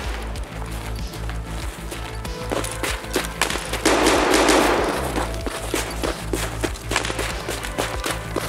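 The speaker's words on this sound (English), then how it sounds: "He was shooting from maybe up here." Rapid enemy gunfire in Escape from Tarkov, a dense string of sharp automatic shots cracking in quick bursts with brief gaps, loud and close, alongside footstep-like thuds and a rushing swell midway.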